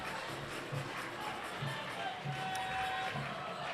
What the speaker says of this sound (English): Look at the crowd cheering them on as they come round.